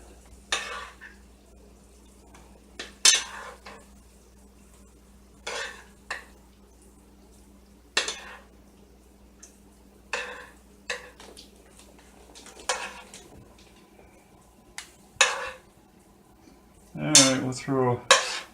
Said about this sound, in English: We're going to put these in our casserole or bowl here.